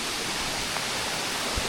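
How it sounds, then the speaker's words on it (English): A waterfall just around a corner on a hiking trail, heard as a steady broad rushing hiss of falling water, fairly loud and continuous with no talking. "Here's the first waterfall, is right around this corner."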